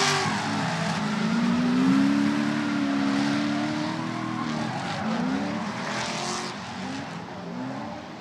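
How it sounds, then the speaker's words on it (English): Drift cars, one a BMW, battle tandem through the zones of a track, engines revving and wavering with sustained tire squeal at a moderate distance, crowd and ambience beneath. "Arnold looking clean through rear zone number 1, through front clip number 4, nice and smooth"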